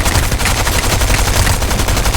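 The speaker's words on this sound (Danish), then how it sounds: "Der er nogen, der skyder." Rapid gunfire in the video game Fortnite, a loud, dense burst of repeated shots running continuously through the whole short stretch.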